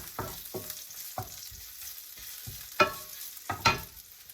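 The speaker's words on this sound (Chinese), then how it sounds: "这时候我们再把这个姜片也放进去，让它蒜和姜的味道全部炒出来" Garlic and ginger slices are stir-fried in a wok, a loud sizzle broken by rhythmic scraping tosses of the spatula, about six distinct strokes, the last two sharper metallic scrapes.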